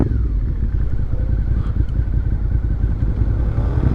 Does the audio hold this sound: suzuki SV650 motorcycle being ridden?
yes